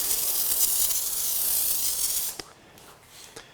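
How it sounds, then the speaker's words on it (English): A continuous hissing spray from a pressurized bottle of rinseless car wash onto a Tesla Model Y's rear fender runs for a couple of seconds, then stops, followed by a few faint clicks. "So we'll just spray this on"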